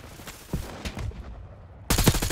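Bursts of close gunfire in Call of Duty Black Ops 6, a few scattered shots followed by a sudden loud volley near the end.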